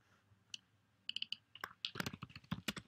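Typing on a computer keyboard, close and fairly quiet, starting with a few scattered clicks and building into a quick, uneven run of keystrokes.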